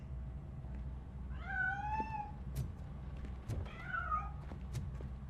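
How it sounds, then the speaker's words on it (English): Two distinct cat meows from a hidden cat in the RoboCop: Rogue City video game, each a drawn-out wavering cry separated by about two seconds, heard over a low rumbling background hum with a few faint clicks. "That cat must be hiding inside."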